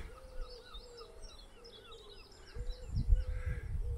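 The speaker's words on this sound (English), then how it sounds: "And all I can hear" Wild birds chirping and calling near Talacre beach on the North Wales coast, light scattered tweets at moderate distance, with low wind or handling rumble rising toward the end.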